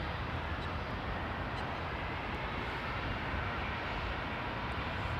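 A Boeing 767 airliner rolls along Heathrow runway 09R, producing a steady, dense engine roar that stays even and unbroken throughout without any voices.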